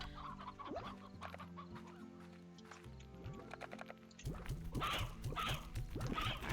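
Chickens cluck repeatedly in the Slime Rancher video game, mixed with other game sounds and music, growing louder and busier toward the end.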